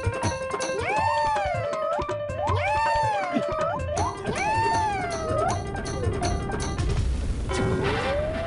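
A cat meows in long, loud, rising-and-falling wails, about four drawn-out calls in a row with thumps and crashes between them and a last shorter meow at the end.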